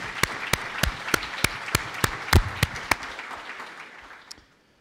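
Sparse audience applause at a lecture event, a dozen or so crisp individual claps in a loose rhythm that thin out and stop, close and moderately loud in a quiet room.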